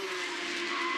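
A race car loses its rear end at turn 6, with tires squealing in a loud, sustained skid and engine noise underneath, unbroken for the whole moment.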